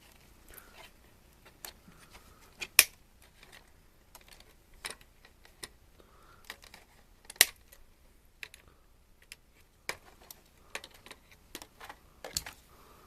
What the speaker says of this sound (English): We can just snip it, work our way across.